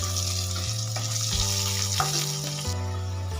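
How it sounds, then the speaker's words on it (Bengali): Potatoes fry in oil in a pan, a loud, dense, continuous sizzle close up, with faint stirring underneath and no voices. "আলুগুলো লাল করে ভেজে নেব।"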